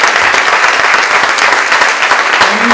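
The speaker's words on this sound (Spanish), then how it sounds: "la querida Tati, que está acá, Tati Almeida, así les pido a todos un aplauso" An audience at the reopening of the Leónidas Barletta experimental theatre space applauds loudly and steadily. The dense, continuous clapping fills the whole stretch without a break.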